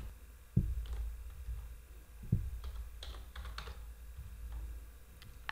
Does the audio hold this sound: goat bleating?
no